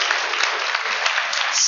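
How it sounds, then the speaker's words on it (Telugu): Group of listeners at a church field training programme in Palakonda claps steadily, a dense, even patter of many hands held at moderate loudness throughout, with no voices over it. "క్లాప్స్ కొట్టు"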